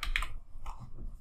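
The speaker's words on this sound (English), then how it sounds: "I could type in a web address" A few quick keystrokes on a computer keyboard while a web address is entered, close and fairly quiet, a short burst of clicks followed by softer taps.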